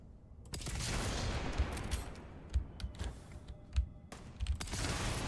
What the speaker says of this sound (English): It is shooting like actual grenades, I guess